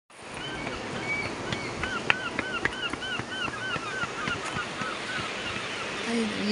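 Honking calls like geese or other fowl repeat over a constant wash of surf at Bournemouth seafront, the birds fairly close against the roar of waves.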